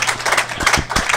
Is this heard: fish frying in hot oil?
no